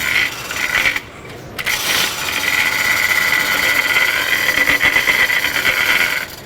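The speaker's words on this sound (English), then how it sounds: "So notice right now, the chains are hitting the lumber that's inside the 4-inch cast iron pipe." SpeedCut descaling machine spinning chains that slap against lumber inside a 4-inch cast iron pipe, giving a steady whirring mechanical rattle with a brief drop near the second mark, loud and close, with no talk.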